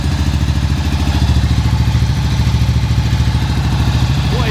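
A Ducati motorcycle engine running in a garage after repair work, idling with a steady, rapid mechanical clatter and pulsing exhaust throb, loud and close with no one talking.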